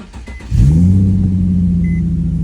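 An Infiniti G35 engine cranks briefly and catches, settling into a loud, steady close-up idle rumble.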